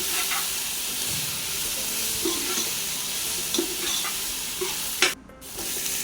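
Coriander and mint leaves sautéing in a pan for Chennai-style biryani give a steady, close sizzle with occasional stirring scrapes, and one brief louder clatter near the end.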